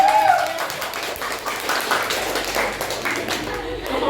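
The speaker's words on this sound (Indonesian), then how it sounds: "Oke, tepuk tangan." Classroom group of listeners clapping together in a dense, even burst of hand claps that lasts the whole few seconds at moderate loudness.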